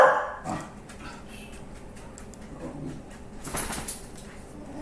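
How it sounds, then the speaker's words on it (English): A dog barks in a few sharp bursts near the start and again around the middle, fairly close and loud, with soft whimpers and yips between and quiet room noise behind. "Now you get to be entertained by my dog, Lacey."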